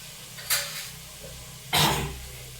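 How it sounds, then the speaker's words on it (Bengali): Butter goes into a hot pan for toasting bread, giving two short, close hissing sizzles about a second apart over a faint background hum. "এবার আমি একটা প্যান বসাবো, এইটা ঠিক আছে, এটা বসালাম। আর এটার মধ্যে আমি দেব একটু বাটার।"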